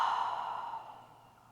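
A long, soft exhale during a yoga breathing exercise, a breathy airy sigh that starts moderately loud and fades gradually over about a second and a half, alone with no talking.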